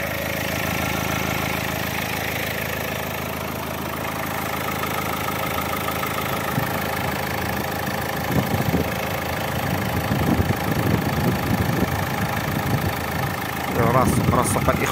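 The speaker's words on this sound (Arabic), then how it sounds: "شوفوا الموتور" A 2017 Dacia Logan's engine idles steadily for the whole stretch, a continuous mid-level hum with a faint rhythmic knock, while people talk over it near the end.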